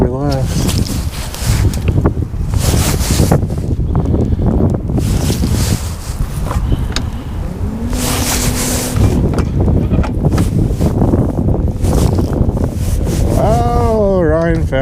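Strong wind buffets and roars across the microphone on a lake during a fishing outing aboard a boat, with a person speaking over the constant gusty rumble.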